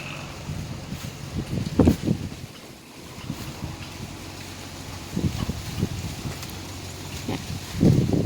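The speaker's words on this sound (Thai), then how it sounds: "ลมแรงแรง" Strong wind gusts buffet the area beside a river, rumbling against the microphone in bursts around two, five and eight seconds over a steady blustery background.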